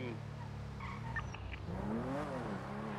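A car in the GTA V NoPixel roleplay game brakes, its tires giving a brief squeal over steady engine noise, with a voice talking over the sound.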